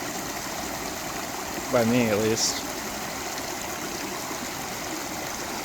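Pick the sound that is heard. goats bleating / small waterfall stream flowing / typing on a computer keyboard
small waterfall stream flowing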